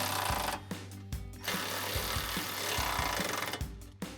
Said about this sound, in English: then we'll tighten down the other side and then get the top bolt on our bracket